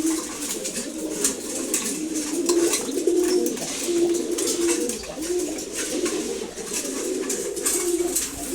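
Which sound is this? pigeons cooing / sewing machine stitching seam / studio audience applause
pigeons cooing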